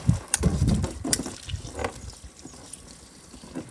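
A garden hose with weak pressure sprays water over cholla cactus pieces in a tub, making splashing and trickling sounds. The splashing is loudest at the start, then settles into a softer, uneven dribble.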